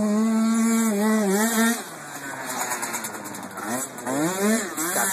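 A 90cc quad bike engine revs hard on an uphill climb, its pitch rising and falling as the throttle is held open, with someone talking over it.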